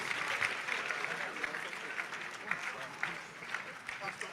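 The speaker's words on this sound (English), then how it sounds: "A beautiful round of applause for Pastor Prince Ituah Ighodalo." An audience at a leadership colloquium honouring Pastor Ituah Ighodalo's birthday gives sustained applause, a dense wash of clapping at moderate distance, steady across the whole stretch.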